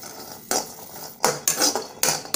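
Coconut pieces stirred and sautéed in a kadai, a series of bright metallic scrapes and clanks of a spatula against the pan in an irregular rhythm, close and fairly loud with no talk.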